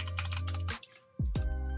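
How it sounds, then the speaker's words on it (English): Rapid clacking keystrokes on a PC356A 60% wired mechanical keyboard with lubed-feeling stabilizers, a close burst of typing, a brief pause, then another quick flurry. "Very pleasant typing experience."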